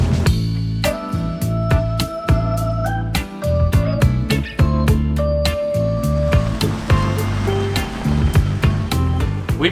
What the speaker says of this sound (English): rain's coming down, and even though we replaced our windshield wipers, they're as squeaky as ever